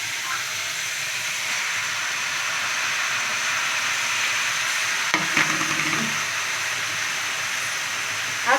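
Capsicum gravy stirred in a frying pan, a steady sizzling hiss throughout with faint scraping of the spoon around the middle, no voices over it.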